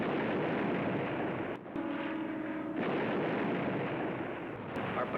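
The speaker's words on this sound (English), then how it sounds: "we can see machine guns on the cliff now, directly ahead of us, firing out at us." Sustained heavy gunfire and explosive battle noise from a war film scene of machine guns firing down from a cliff at an approaching patrol, loud and continuous, with a brief dip partway through and no talk.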